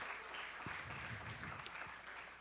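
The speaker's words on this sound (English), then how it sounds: "Give it a round of applause." A business association meeting audience at a museum gives a brief round of applause, a steady patter of many hands clapping at moderate level with a few sharper claps standing out.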